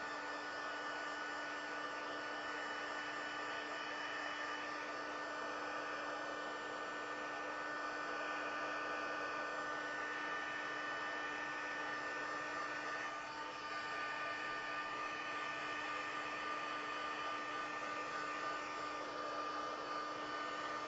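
A hair dryer runs in a constant, steady whoosh with a fixed motor hum, blowing to dry a layered stamped paper butterfly bouquet, unbroken and alone for about twenty seconds.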